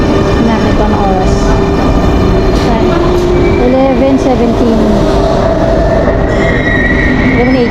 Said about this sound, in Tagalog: Ito na yung tren.